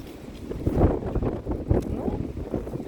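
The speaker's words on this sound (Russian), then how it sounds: "такие вот небольшие порывы ветра, конечно, случаются, но они не настолько сильные" Gusts of wind buffet the microphone outdoors beside a Christmas market, low rumbling bursts that swell and fade in uneven pulses, close and fairly loud, with no clear talk.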